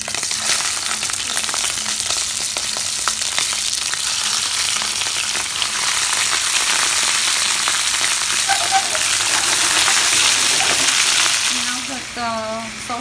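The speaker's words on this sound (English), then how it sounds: "We heated up the oil. We're gonna add the Egyptian sausage." Egyptian sausage dropped into hot oil, a loud, dense, continuous sizzle and crackle right up close, easing slightly near the end as a faint voice comes in.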